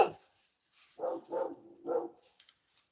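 Dogs at an off-grid rural property bark in three short bursts, moderately close and fairly quiet, with no talking over them.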